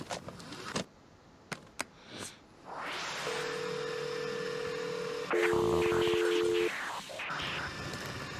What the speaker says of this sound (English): This is your 56K modem.